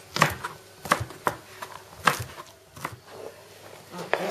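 Knife chopping black-eyed peas on a board, sharp irregular knocks in a loose rhythm, close and fairly quiet with no talking.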